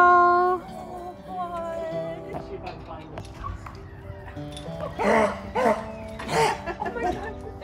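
Rescued beagles freed from an animal testing facility, close high-pitched whimpers and whines followed by a few sharp yips and barks, with people talking softly nearby.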